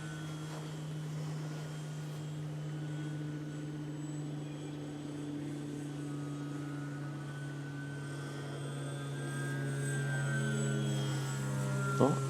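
A foam board RC plane cruises overhead at reduced throttle, its electric motor and propeller making a steady, even buzzing drone at moderate distance that swells slightly toward the end, no voices.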